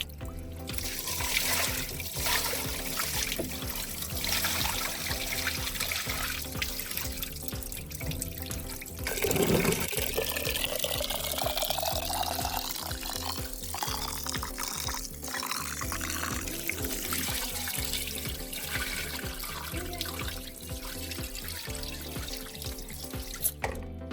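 Ration rice, soaked for three days, is washed under running water, with a continuous tap stream splashing into a vessel and trickling and dribbling sounds throughout.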